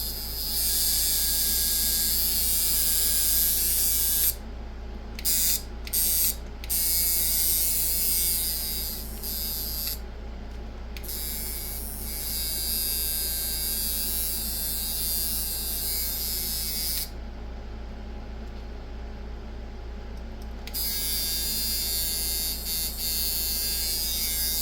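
A Micky Sharpz hybrid clone tattoo machine runs fast with a loud, steady electric buzz and strong hum, briefly cutting out and restarting several times before buzzing on continuously.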